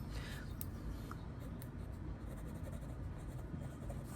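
A Kaweco Sport fountain pen, left uncleaned, scratching across paper with soft continuous rubbing strokes, close and quiet over a steady low room hum, no talking.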